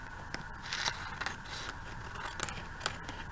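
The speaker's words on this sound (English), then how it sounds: "So I'm just cutting this down a little bit here." Scissors snip through paper to trim a handmade fold-open craft tag. The quiet crisp cuts and light scraping come up close in a short irregular series, with no talking.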